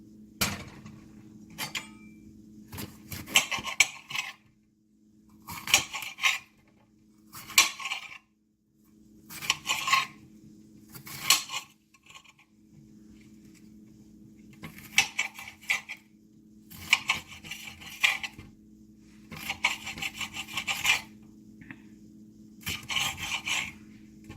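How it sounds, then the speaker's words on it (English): A knife chops a red pepper on a cutting board for a rustic hash, giving bursts of rapid close knocks and scrapes separated by short pauses, over a steady low background hum. "now I'm going to add a red pepper, so I'm going to chop that up"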